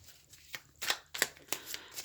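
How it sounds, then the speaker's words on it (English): A deck of tarot cards being shuffled by hand, a run of sharp papery riffles and slaps spaced a fraction of a second apart, close and fairly quiet. "Deck is so difficult to shuffle."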